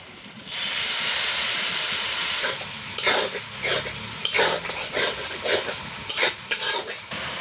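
Water from rinsing a spice bowl poured into a hot pan of soybean and pointed gourd curry, starting with a loud sustained hiss, then giving way to rhythmic spatula scrapes and stirring over continued sizzling.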